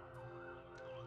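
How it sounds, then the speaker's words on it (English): Ambulance siren passing outside an apartment, a steady wailing tone heard faintly from a distance, with no other sounds over it. "there was just an ambulance that just went past my apartment"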